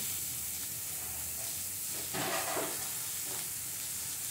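Finely chopped kohlrabi tipped into onions frying in a pan gives a soft, steady sizzle with a brief swell of louder crackling and stirring in the middle, fairly faint and with no talking.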